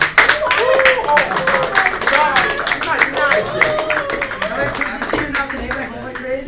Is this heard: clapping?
yes